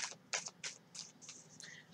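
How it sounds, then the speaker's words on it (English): Tarot cards are shuffled by hand in quick, soft riffling bursts, about seven short papery flutters in two seconds, close and faint against a quiet room. "I need to shuffle these cards up a little bit"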